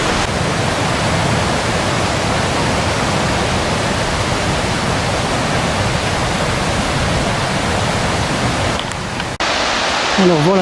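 Waterfall at Val de Molières roars as a loud, steady broadband rush close by, unbroken for the whole stretch, with a brief knock and faint higher warble near the end.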